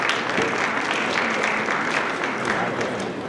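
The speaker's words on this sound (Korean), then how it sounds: "다시 한번 박수 좀 부탁드리겠습니다" An audience at the opening ceremony of a commercial-vacancy fair in Sejong applauds in a dense, steady wash of clapping that fills the whole stretch, with some voices mixed in.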